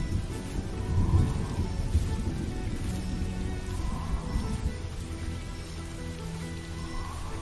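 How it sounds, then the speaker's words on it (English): Steady video game rain hisses across the whole stretch, with a low rumble swelling near the start, continuous and fairly even in level. "Why is it raining all of a sudden?"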